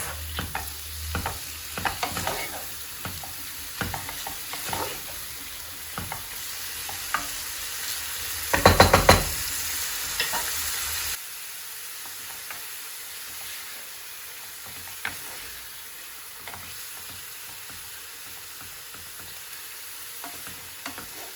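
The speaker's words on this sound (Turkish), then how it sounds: "Yarım kilo kıymayı tavada ilk önce soteleyeceğiz" Minced meat sizzles and crackles in a hot pan, with occasional scraping stirs and a brief louder burst partway through before the frying settles.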